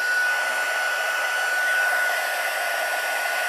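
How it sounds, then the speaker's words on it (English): A steady, continuous rush of blowing air from a heat gun, close and even, with no pauses or speech. "let me just plug in my heat gun here. And now what we're going to do is just heat it up."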